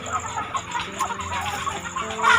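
Golden Misri roosters cluck in short, irregular bursts close by, over a steady background hum and without speech.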